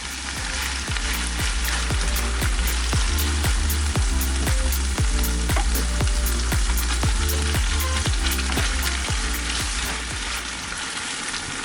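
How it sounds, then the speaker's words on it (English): King prawn creole sauce with tomatoes frying in a pan, a steady close sizzle with rhythmic stirring or scraping taps throughout, no talking. "we're going to let that fry off for another 10 minutes because you really want to cook out the tomatoes"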